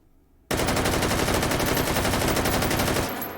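A sustained burst of automatic fire from an AK74N shooting a 30-round magazine of 5.45x39mm in the VR game H3VR, rapid loud shots run together for about two and a half seconds, then cut off.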